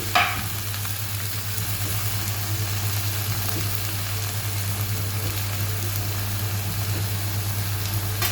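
Cabbage with curry leaves and onion fries in a pan under a steady, even sizzle while it is mixed, with faint scraping from the stirring, close and continuous throughout.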